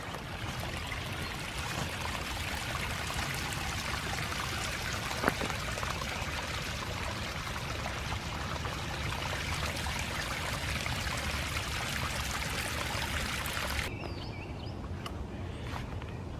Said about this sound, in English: Still getting rainwater runoff.